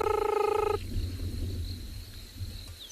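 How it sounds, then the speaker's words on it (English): A short series of rapid, pulsing banded rubber frog calls, close and clear in South Africa, stopping abruptly and leaving faint background hum and distant chirps. "from a very pretty frog called a banded rubber frog"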